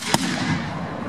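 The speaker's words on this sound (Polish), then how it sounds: "Widzimy, strzelają." Cannon fire at a historical battle reenactment of the Battle of Racławice, heard as a single sharp blast early on that fades into a rumbling wash of outdoor noise.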